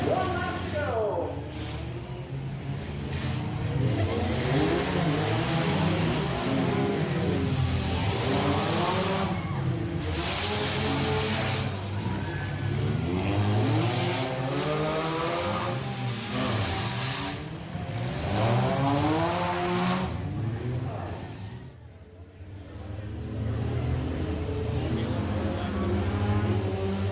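Race cars, including a Subaru, on the last lap of a speedway race, engines rising and falling as they accelerate past in repeated loud passes, with a commentator talking over them throughout.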